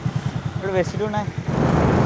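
A motorcycle rides along a village road and its engine drones low and steady. A voice talks over it in the middle, and the road noise grows rougher toward the end.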